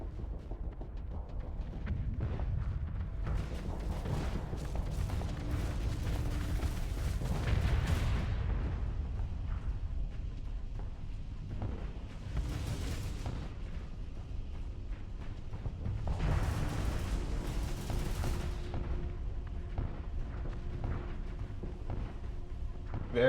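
Torpedo explosions in the space combat game Starsector: long, rumbling booms swell and fade in several waves over a low continuous drone, heavy and sustained rather than sharp.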